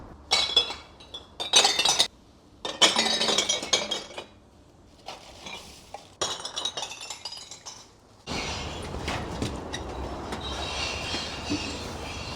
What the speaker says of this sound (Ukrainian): Скло кольорове, скло без відтінків. Зараз будемо сюди наше скло здавати.